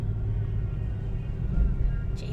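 Cabin of a moving car, a steady low road rumble and engine hum filling the space, fairly close and constant, with a brief brighter noise near the end.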